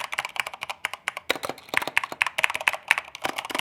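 Rapid clacky keystrokes on a Corsair K70 Mk. 2 SE mechanical keyboard, close-up and crisp in uneven bursts, with several sharper, louder key hits mixed in, no speech.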